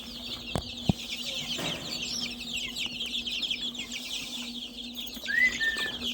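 Ayam Cemani chickens along with other breeds in a coop, soft scattered clucking over a steady hum and a chirping insect-like background, with a brief higher call near the end.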